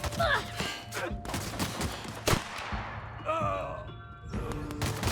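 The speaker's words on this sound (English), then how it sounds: "Oh, we got sniper versus sniper here." Sniper rifle fire in The Outer Worlds video game, several sharp, loud shots with ringing tails crack out amid other game sounds and impacts over a few seconds.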